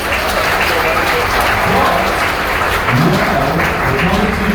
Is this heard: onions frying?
no